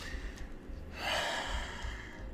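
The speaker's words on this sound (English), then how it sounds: "I'm breathing hard" Heavy, forceful breathing from a person, a loud rush of breath that swells about halfway through and stays strong, close up over a low rumbling background.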